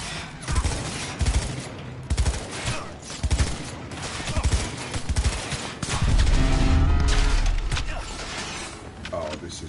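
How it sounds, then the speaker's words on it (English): Repeated gunfire from a Cyberpunk 2077 street fight, bursts of close, punchy shots in quick clusters across the first six seconds, then a heavier rumbling stretch with scattered shots and mechanical clatter. "Now he's shooting."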